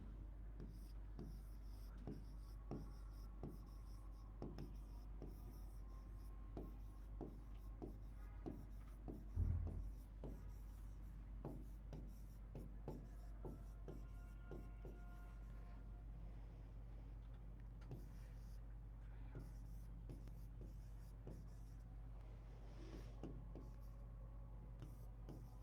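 A hand writes on a surface in a quiet room, making faint, repeated short scratches and taps over a steady low hum, with one louder bump partway through.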